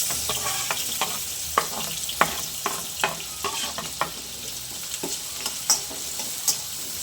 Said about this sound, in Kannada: ಎಣ್ಣೆ ಕಾದಿದೆ. ಹೆಚ್ಕೊಂಡಿರೋ ಅಂಥ ಈರುಳ್ಳಿ ಮತ್ತು ಮೆಣಸಿನ್ಕಾಯಿ ಹಾಕೋತಾ ಇದ್ದೀನಿ.